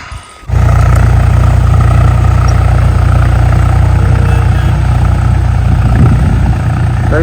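A tractor engine runs steadily in a farm field at night, a loud continuous low diesel rumble that starts abruptly after a brief quiet moment and holds constant with no talking.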